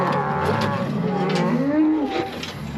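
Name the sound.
calves mooing while being moved into barn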